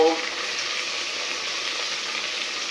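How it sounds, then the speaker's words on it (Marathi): Vegetables hitting a hot pan for pav bhaji, a steady loud sizzle of frying that holds evenly throughout after a brief initial splash. "आता त्यावर मी सगळ्या एक एक करून भाज्या टाकणार आहे"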